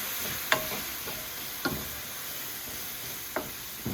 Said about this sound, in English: If you just can get like 2 tablespoons in here, and then immediately stir it around so that all the nuts get a little bit of maple syrup on them